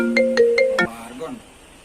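A phone plays a melodic ringtone while a call is being placed: a short run of bright repeated electronic tones that stops abruptly, followed by a faint tail of sound.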